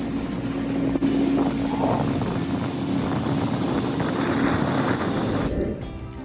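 Motorboat speeding toward Elephanta Beach on Havelock Island (Swaraj Dweep), Andamans, with a steady loud engine roar and wind buffeting the microphone, the drone easing near the end.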